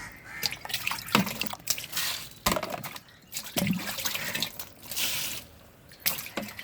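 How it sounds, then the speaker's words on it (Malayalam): Water splashes and drips in uneven bursts as half a can is poured onto plants in garden soil outdoors, with a crow cawing in the background. "ഇതിൻ്റെ ഒന്നിച്ചൊരു അരപ്പാട്ട വെള്ളം കൂടി ഒഴിച്ചു കൊടുക്കുന്നുണ്ട്"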